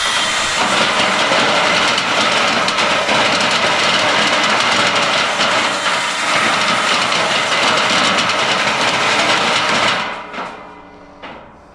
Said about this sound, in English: motor speed on high definitely creates a lot of racket